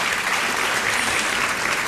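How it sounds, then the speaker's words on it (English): Steady, dense audience applause at a teacher-of-the-year speech event, filling the whole moment at an even level with no talking. "So let's give him a round of applause."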